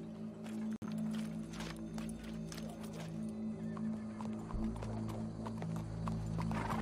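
Rhythmic clip-clopping of horse hooves in Red Dead Redemption 2, steady even steps over a constant low hum.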